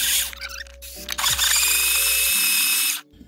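A loud, steady electric coffee grinder whir, grinding black-eyed peas, runs for about three seconds with a brief dip partway, then cuts off abruptly.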